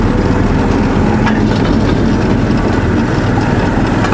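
A narrow-gauge railway train running on the Smolyanka settlement line in Komi, a loud, steady rumble of engine and wheels heard from aboard, continuous with no voices.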